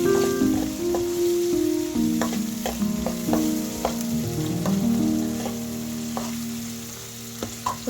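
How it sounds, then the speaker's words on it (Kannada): Onions frying in a pan for lemon rice, a steady sizzle under rhythmic scraping and tapping of a spatula, with low tonal hum beneath, close and fairly loud, no talk. "ಈರುಳ್ಳಿನೂ ಚೆಂದಾಗಿ ಕಲರ್ ಚೇಂಜ್ ಆಗೋವರೆಗೂ ಫ್ರೈ ಮಾಡ್ಕೋಬೇಕು."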